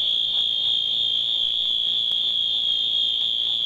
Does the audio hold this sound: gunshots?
no